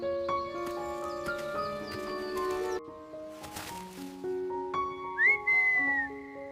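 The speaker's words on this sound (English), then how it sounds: "Did you hear that whistle? Yes, let's follow the sound." Someone whistles a wandering melody of sustained clear notes, with a brief rustling burst in the middle and a rising slide near the end.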